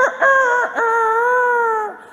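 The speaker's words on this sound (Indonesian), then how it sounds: "Waktunya jam 3 sudah ada suara ayam berkokok," A rooster crows once at close range, a loud drawn-out call with a few choppy opening notes before a long sustained tone that fades at the end.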